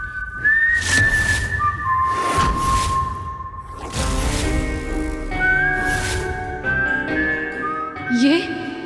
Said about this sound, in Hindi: ये सीटी की आवाज, बिल्कुल ऐसी आवाज